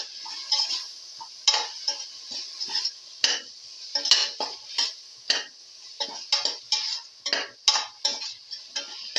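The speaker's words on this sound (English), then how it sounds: "keep on sauteing" Cabbage sautéing in a pan with salt: repeated scraping and clinking strokes of a spatula against the pan in an uneven rhythm, close and fairly loud, with a faint sizzle underneath and no talk.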